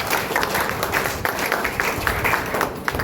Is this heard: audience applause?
yes